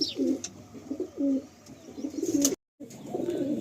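A pair of pet pigeons coos repeatedly in low, rolling phrases close by, with a few faint chirps and a momentary dropout before the cooing resumes.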